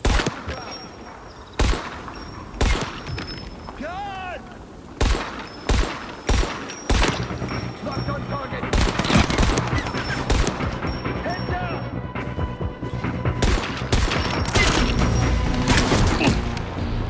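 Gunfire in the Dying Light The Beast video game: sharp bursts of shots, some in rapid volleys, with booming impacts and mechanical clatter over a rumbling game soundscape.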